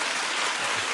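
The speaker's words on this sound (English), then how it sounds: "clap if you love Celebrity Apprentice" A studio audience at a 2008 talk show claps in a brief, steady, even burst of moderately soft applause, with no voices standing out.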